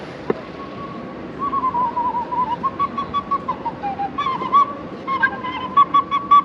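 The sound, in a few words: man blowing a whistle in the street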